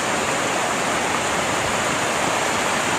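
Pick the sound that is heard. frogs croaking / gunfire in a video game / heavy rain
heavy rain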